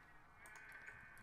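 Sheep bleating in Minecraft near a sheep pen, a short low-level bleat with faint crackly game noise, no talking.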